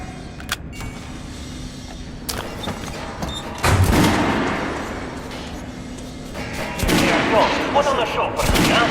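Gunfire at a shooting range in Metro Redux, several loud close shots and bursts with mechanical clatter between them, plus a brief voice.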